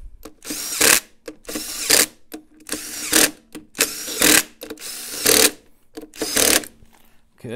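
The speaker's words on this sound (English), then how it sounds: "And then I like to give her some blips with the gun." An impact gun fastening a dirt bike clutch cover fires about seven short, sharp rattling bursts close up, each under a second long and separated by brief pauses.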